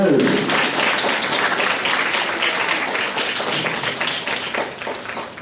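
An audience at a 2021 graduation ceremony applauds with dense, continuous clapping that stays loud and full for several seconds and tapers slightly near the end.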